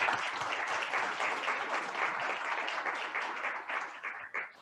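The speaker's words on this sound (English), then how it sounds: "Please give them a big round of applause" Steady applause from an audience at a business conference session, many hands clapping in a dense, even roar that fades slightly at the end, with no speech over it.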